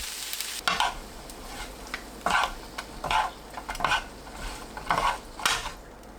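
Seasoned duck meat stir-fried in a pan with soy-based sauce being reduced, heard as a steady sizzle punctuated by repeated scraping strokes of a utensil against the pan, close and fairly loud.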